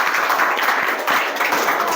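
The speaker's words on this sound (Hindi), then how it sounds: "तो इससे पहले आस्था के लिए तालियां हो जाए" Classroom audience applauding a student after her teaching turn, a steady dense wash of clapping hands lasting throughout, fairly loud and close, with no voices over it.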